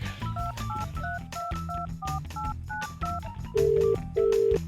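After a phone call is hung up, a fast sequence of telephone keypad tones plays in quick beeps, ending in two longer, louder steady tones, with no talking.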